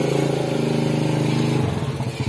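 A freshly rebuilt motorcycle engine that still blows white smoke runs steadily close by, with a throbbing idle that shifts slightly in pitch partway through.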